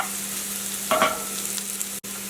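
Vegetables for a frittata sizzle in a frying pan with a steady, even hiss, broken near the middle by a short burst of stirring or shifting in the pan.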